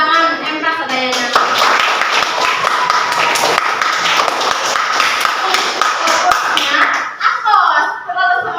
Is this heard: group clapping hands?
yes